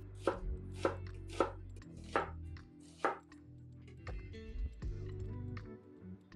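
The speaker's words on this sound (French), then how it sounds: "coupez en brunoise 4 fines tranches d'1 mm d'épaisseur de gingembre, émincez un demi-oignon" A knife chops ginger cut into fine brunoise and slices half an onion on a board, sharp distinct strikes, quick at first and then more spaced, close and clear with nothing else heard.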